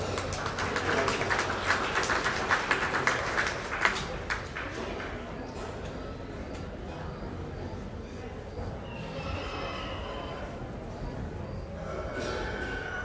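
Scattered clapping from a crowd at a county fair sheep show rises at the start and thins out after a few seconds, with a voice speaking over a busy outdoor background.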